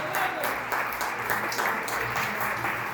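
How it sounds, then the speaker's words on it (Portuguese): A church congregation claps together in worship, making a dense, fairly close wash of applause that holds steady for a few seconds, with faint voices mixed in. "Você pode aplaudir ao Senhor por essa palavra?"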